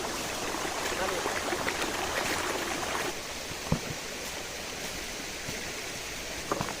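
Steady broadband rush of a waterfall near a Somnath temple, continuous and fairly loud throughout, with a few faint knocks and no clear talk.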